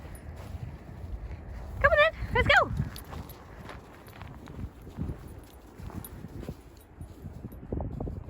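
An excited pet dog named Kanan gives a quick burst of high whimpering yelps up close, amid shuffling footsteps and people talking.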